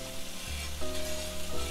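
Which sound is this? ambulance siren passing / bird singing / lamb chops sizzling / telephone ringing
lamb chops sizzling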